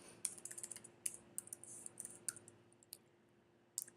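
Quiet, quick clicking of a computer keyboard as code is typed, with irregular keystrokes and a few louder taps, heard alone.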